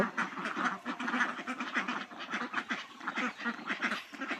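A flock of domestic ducks on a village farm quacking together, dense overlapping calls in an irregular rhythm, close and fairly loud throughout.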